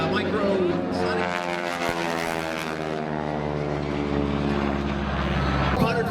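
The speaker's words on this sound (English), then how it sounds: "Spinning so fast, the propeller tips go supersonic" A Stearman biplane's 150-horsepower propeller engine drones loudly and continuously at an airshow, its steady harmonic roar holding throughout with a slight rise and fall in pitch, while a voice talks over it.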